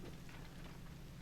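Steady dense rain hiss from the Legend of Zelda: Tears of the Kingdom video game, an even wash of falling rain with no gaps, alone and moderately quiet.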